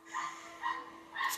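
Three faint, evenly spaced yipping barks from a dog outdoors, somewhat distant, over a low steady hum.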